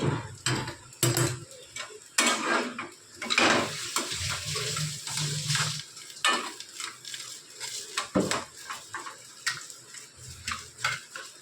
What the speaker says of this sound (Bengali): ভালো করে এটাকে নেড়ে নিতে হবে